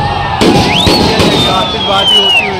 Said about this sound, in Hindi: आतिशबाजी होती हुई।